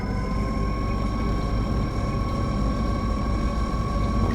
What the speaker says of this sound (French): j'espère que le laser fera pas trop de bruit parce que c'est assez bruyant finalement, ce gros engin